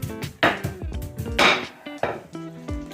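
Raw chicken breast gets bashed flat in a kitchen, a string of dull, irregular thumps and knocks landing close and fairly loud, about seven or eight blows in quick succession.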